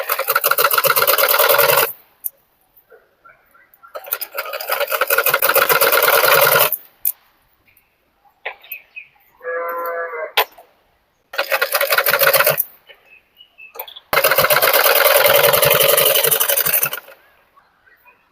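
Electric sewing machine stitching blouse pieces together in loud, fast whirring runs of a few seconds each, separated by quiet pauses filled with fabric handling and a brief soft mechanical rattle.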